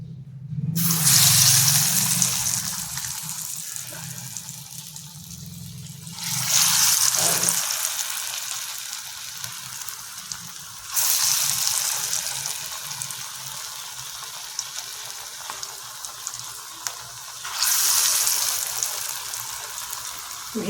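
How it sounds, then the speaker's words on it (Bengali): Cabbage kofta fry in hot oil over medium heat until golden brown, giving a loud, bright sizzle that surges in waves every few seconds and eases between them. "মাঝারি আছে এইভাবে গোল্ডেন ব্রাউন করে বাঁধাকপির কোপ্তাগুলো ভেজে তুলবো"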